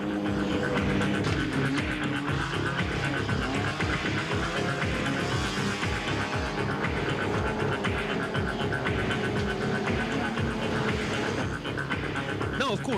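Cars racing at speed across thick frozen Minnesota lake ice in winter, a steady, loud engine drone with rumbling, throbbing low tones that carries on unbroken for the whole stretch.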